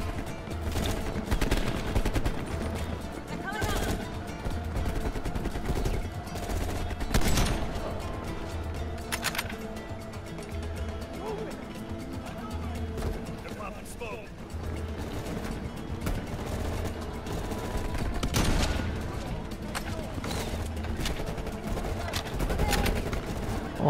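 Gunfire in the Call of Duty Black Ops campaign, with repeated sharp shots and bursts over a dense, continuous battle din, plus loud transient cracks at intervals amid general combat noise.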